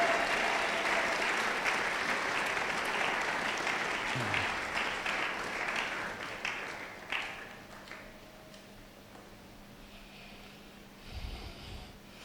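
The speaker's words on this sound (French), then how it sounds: "Est-ce qu'on peut bien acclamer le Seigneur?" A church congregation claps and cheers loudly in a sustained burst of applause that gradually thins and fades toward the end, leaving scattered claps.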